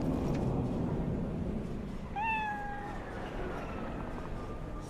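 A cat in Cyberpunk 2077 gives a single clear, rising-then-falling meow mid-clip, heard close over a steady ambient room hum.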